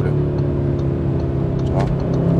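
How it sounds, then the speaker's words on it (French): A car's engine drones steadily as it picks up speed, heard from inside the cabin with a mid-pitched hum and a brief rise in revs near the end, with no talking. "On va accélérer un peu."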